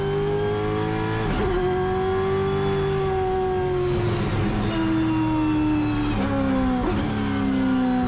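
A Holden V8 Supercar engine on a warm-up lap at Brands Hatch gives a loud, continuous V8 roar, with pitch climbing and dropping through several gear changes and no pause.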